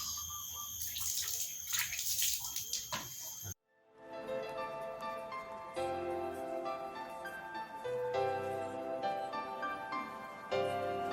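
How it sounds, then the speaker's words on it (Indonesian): Hands rinsed under running water from a tap after soaping during a handwashing demonstration, a loud steady splashing stream that cuts off briefly, then continues as softer, fuller water flow close by. "setelah itu baru kita bilas"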